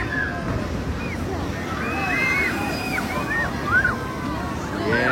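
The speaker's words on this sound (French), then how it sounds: "Et voilà, le monde va se faire arroser." Water sloshes and splashes over riders on an amusement park water ride at La Ronde in Montréal, with a continuous rushing wash, crowd babble and scattered distant screams.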